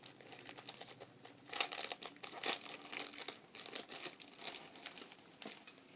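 Wrapping on a small craft-trade package being opened at close range, with soft crinkling, tearing and rustling in irregular bursts, no talking.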